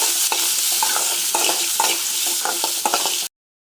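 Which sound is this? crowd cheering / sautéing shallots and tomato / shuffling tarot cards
sautéing shallots and tomato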